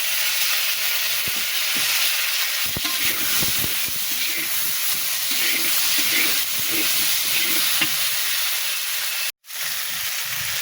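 Chopped onion and tomato hit hot oil with fried new potatoes in a pan for an eel fish curry, setting off a loud, continuous hissing sizzle that holds steady for several seconds before cutting out briefly near the end.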